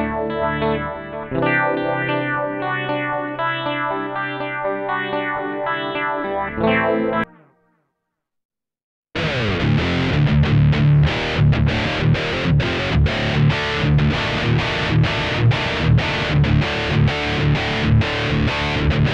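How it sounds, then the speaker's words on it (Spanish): An electric guitar plays through a Mooer GE100 multi-effects pedal: a sustained, effected passage, a brief silence, then a loud, fast distorted wah solo with rapid picked notes. "Wah solo, supongo que esto es con el wah pedal."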